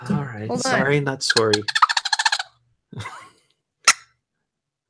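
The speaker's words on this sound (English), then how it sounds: "What that noise is, it's actually a squirrel call, like a wild game call." A handheld wild game squirrel call, used here as a woodchuck call, gives a quick run of sharp rhythmic chirps right after someone talks, followed by a short rasp and one more brief chirp.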